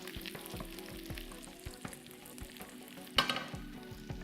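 Garlic with bird's eye and sliced green chilies sautéing in butter, a steady low sizzle broken by soft stirring scrapes and one sharper clatter, with no voices.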